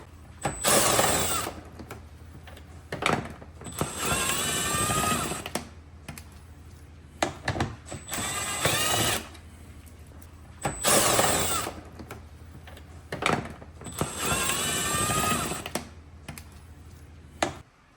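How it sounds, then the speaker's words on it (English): Screws being removed from the tail lights and third brake light of a Corvette C8 with hand tools, giving repeated clicking, ratcheting mechanical bursts spaced through the clip, close and fairly loud with no talk. "So we're going to be removing these screws on each side on both of them."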